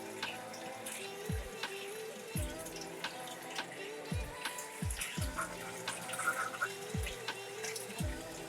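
Water drains from an aquarium sump while a refugium fills, a trickling, gurgling flow broken by repeated deep glugging drops, fairly quiet and close, with no talk.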